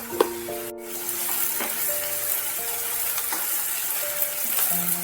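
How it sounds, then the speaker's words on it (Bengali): Onions frying in a pan with a little sugar until crisp and browned, a steady close sizzle running throughout with occasional soft clinks and scrapes of stirring. "ভালোভাবে একটু নাড়িয়ে চাড়িয়ে নিয়ে ভেজে নিতে হবে"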